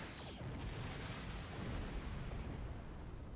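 A photon torpedo striking a starship's shields in the Star Trek Online space game, a rumbling, booming impact with a broad blast of noise, fairly faint and sustained for a few seconds.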